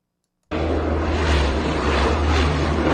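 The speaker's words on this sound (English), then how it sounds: "Oh, this is the plane crashing?" A roaring airplane engine bursts in abruptly after a moment of silence, a loud, dense, continuous rumble that holds steady to the end.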